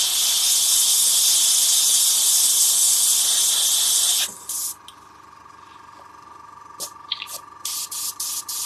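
Airbrush spraying primer onto a miniature, a loud steady high hiss for about four seconds, then cutting to quieter air with several short, sharp spray bursts near the end.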